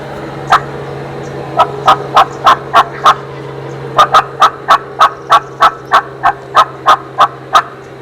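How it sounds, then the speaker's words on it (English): An Osceola wild turkey gobbling repeatedly, sharp rattling calls in quick succession, fairly close and loud over a faint background hum. "just listen to some gobbling for a minute."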